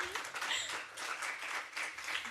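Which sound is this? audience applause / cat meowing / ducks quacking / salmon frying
audience applause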